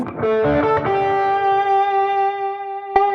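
Electric guitar played through a Fender Super amp with the volume set on 3: a few quick picked notes settle into a sustained ringing chord that slowly decays, then a brief strum near the end.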